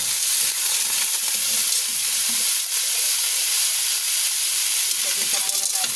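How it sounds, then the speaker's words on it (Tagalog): Snails and fern sautéing in a pan, a loud continuous bright sizzle and hiss close up, with faint low sounds underneath and no pauses. "Igisa muna natin."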